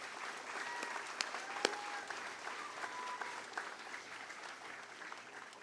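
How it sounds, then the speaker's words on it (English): Audience applause rings out at an outdoor political picnic, steady clapping from a sizable crowd that holds at an even level for several seconds with a few sharper claps standing out. "That deserves a round of applause."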